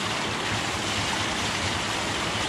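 Clean water on a farm rushes and flows steadily, a dense, continuous broadband wash close by with no voices over it.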